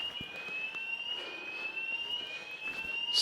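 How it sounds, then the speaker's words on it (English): A fire alarm sounds in a youth center, a steady high electronic tone held continuously throughout at moderate distance, with faint background noise and no talk. "that fire alarm was just like a malfunction"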